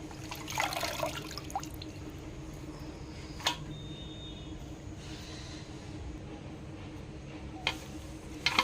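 Leaves are rinsed clean of soil under running water, giving a steady, close splash of flowing water with a few sharp clinks and handling sounds.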